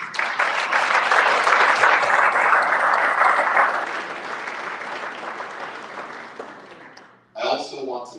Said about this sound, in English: I want to ask for another round of applause for all of our athletes and administrators.